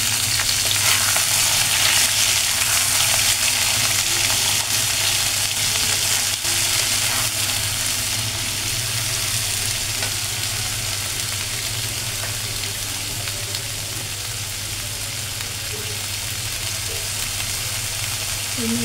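Mixed vegetables dropped into oil tempered with panch phoron, sizzling in a loud, dense, unbroken hiss for a long stretch, close to the pan with no talk.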